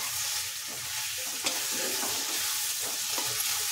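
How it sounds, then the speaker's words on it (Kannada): Onion and tomato frying in a pan for garlic rice, a steady close sizzle with a few soft stirring scrapes and taps over it. "ಈ ರೀತಿ ಈರುಳ್ಳಿ ಸಹ ಫ್ರೈ ಆಗ್ತಾ ಬಂದಿದೆ. ಇವಾಗ ಟೊಮ್ಯಾಟೊನ ಸೇರಿಸ್ಕೊಳ್ಳಿ."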